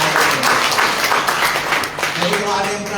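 A church congregation claps for God during a sermon, a dense, loud wash of applause with voices cheering and talking underneath.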